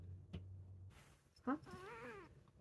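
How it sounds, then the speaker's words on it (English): A house cat gives a few short, close meows and chirps, one drawn out and wavering, with a person speaking briefly nearby. "Hello, that's my cat."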